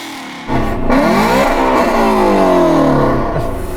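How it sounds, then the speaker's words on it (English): A tuned Porsche 911 engine revs hard and close, its pitch sweeping up and down through several climbing and falling surges over a steady loud roar, with no talk over it. "this is what my Porsche sounds like when I rev it up"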